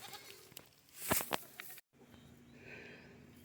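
A goat at a farm shelter bleats once in a loud, wavering call near the microphone, followed by a short silence and then quiet ambient background.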